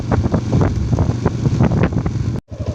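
Cold, dry wind blowing into the microphone on a walk out to the fields to fetch cattle, heavy rumbling buffets and gusty thumps, loud and close, with a brief drop-out near the end.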